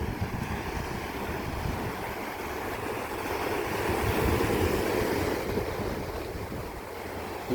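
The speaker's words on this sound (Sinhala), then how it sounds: "මේක තමයි බීච් එක." Waves wash onto a shallow hotel beach in a continuous rolling surf, heavily mixed with strong wind buffeting the microphone, with no speech.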